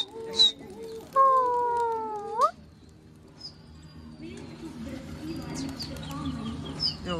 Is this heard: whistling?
no